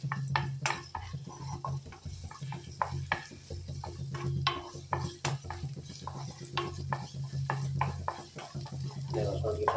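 Garlic and onion fry in hot oil in a pan while being stirred, a low sizzle under repeated clinks and scrapes of a utensil against the pan, irregular and close.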